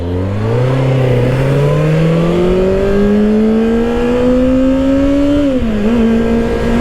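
Kawasaki ZX-6R 636 sport bike, a 2024 model ridden in sport mode on a highway, its engine droning loud and steady while the revs climb slowly and evenly, with a brief dip near the end before settling again.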